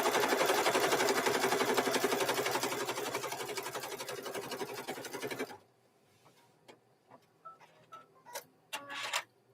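An embroidery machine stitching a design for mug rugs runs in a fast, loud, steady rhythmic rattle for about five seconds, then stops, leaving scattered light clicks and handling taps.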